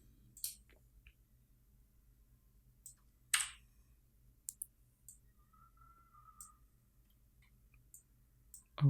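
Sparse computer keyboard and mouse clicks during After Effects animation work, a few sharp isolated taps spread across a quiet background, with one louder click and long gaps between.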